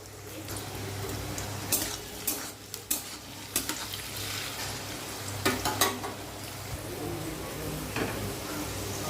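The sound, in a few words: carrots frying in a pan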